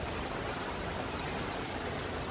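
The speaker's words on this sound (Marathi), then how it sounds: "तर खूप जोरात पाऊस आहे" Heavy unseasonal rain pours down in a steady, even hiss with no pauses, the kind of downpour that brings lightning and soaks livestock in the open; it stays moderately loud throughout and no one speaks.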